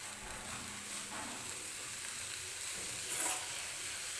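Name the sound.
stirring safflower leaf greens in a pan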